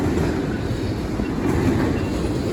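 A Norfolk Southern intermodal freight train rumbles steadily past at close range on a dark, wet night, a dense continuous roar of wheels and cars with no voices.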